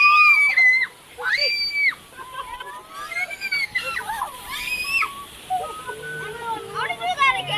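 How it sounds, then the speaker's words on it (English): Water sprays and splashes over a raft on the Kali River Rapids ride at Animal Kingdom, with excited voices shrieking and calling out over the rushing water. "Oh no, water spray."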